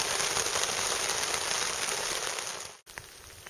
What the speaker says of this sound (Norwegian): og det regner